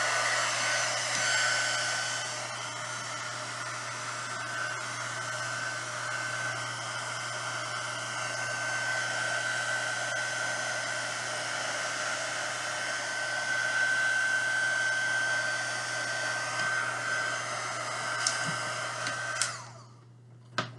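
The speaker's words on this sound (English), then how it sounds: "when we do the heat gun" A heat gun blows steadily on ink in a cup, a constant loud rushing hiss with a faint whine that holds for about twenty seconds before cutting off abruptly with a click.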